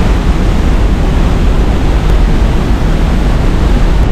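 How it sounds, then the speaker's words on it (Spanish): Roaring waterfall at Pailón del Diablo in Baños, Ecuador, one of the tallest falls in Latin America: a loud, steady, dense broadband rush that fills the whole stretch without any break or voice. "Está en la cascada de las más altas de Latinoamérica."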